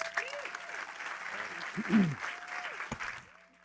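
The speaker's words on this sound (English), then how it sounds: "Please give them a round of applause." Audience applause at a gala presentation honoring Viola Davis, mixed with voices and cheering over the clapping; moderately loud, fading out near the end.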